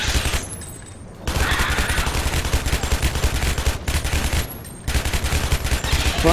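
Rapid gunfire from the Shadow Warrior video game, a loud continuous stream of shots with two brief pauses, dense and sustained across the whole stretch.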